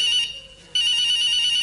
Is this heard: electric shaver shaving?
no